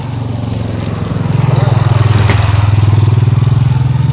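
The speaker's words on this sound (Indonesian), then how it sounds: "Ini motor nyalain terus loh." A motorcycle engine runs steadily at close range, a loud, continuous throbbing idle that grows slightly stronger after the first second and holds for several seconds, with no talk over it.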